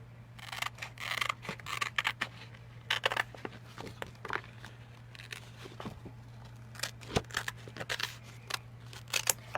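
Scissors snip through paper birdhouse cutouts with pre-drawn lines in a home craft setting, a run of close, crisp cuts and rustles coming in quick bursts with short pauses.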